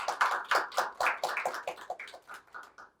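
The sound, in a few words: audience applause welcoming a speaker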